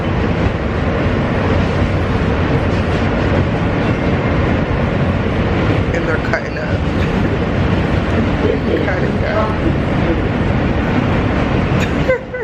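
Steady, loud rumble and rattle inside a moving train carriage, a continuous rolling roar throughout with a person talking briefly over it.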